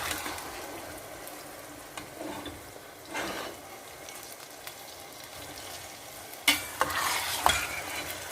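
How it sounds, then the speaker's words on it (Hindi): Washed chicken pieces fry in a karahi, a faint, steady sizzle with intermittent stirring scrapes, ending in a few louder clatters of the spoon against the pan. "चिकन को मैंने धोकर रख दिया हुआ था और इसको हम अच्छे से भूनेंगे"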